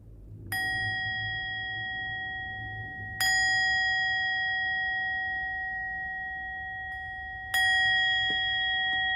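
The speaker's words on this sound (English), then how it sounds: "So just to be formal, I'll ring the bell 3 times." A meditation bell is struck three times to open a Buddhist refuge and precepts ceremony, each strike a clear ringing tone that hangs and fades slowly before the next, in a quiet room without talk.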